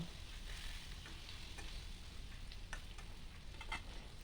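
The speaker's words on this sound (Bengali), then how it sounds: "এদিকে বেগুন ভাজা হচ্ছে" Eggplant pieces fry with turmeric in hot oil, giving a continuous soft sizzle with faint stirring scrapes, close by and quiet, no voices.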